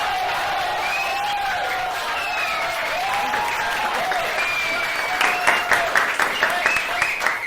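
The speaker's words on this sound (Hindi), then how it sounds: "ताली बजाओ यार, इतना अच्छा आंसर दिया यार" A crowd in a comedy sketch applauds, a steady roar of clapping with a voice talking over it, and sharper individual claps grow more distinct toward the end.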